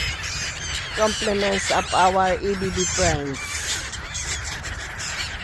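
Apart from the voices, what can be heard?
many birds squawking while being fed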